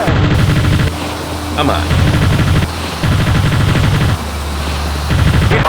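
Aircraft cannon from the flight game Fighters Anthology fires in long, dense rattling bursts over a steady engine drone, loud and close with short pauses between strings of rounds; a voice speaks briefly over it.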